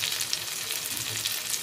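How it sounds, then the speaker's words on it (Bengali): Spices sizzle steadily in oil over a low flame after a little tomato ketchup goes in, a close, continuous crackling fry with no voices. "একদম লো ফ্লেমে আমি মশলাগুলো কষিয়ে নিয়েছি।"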